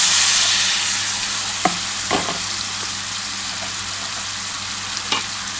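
Mango mixture for aam tel pickle frying in hot oil in a pan, giving a steady loud sizzle with a few sharp scraping stirs of a spatula and no talk.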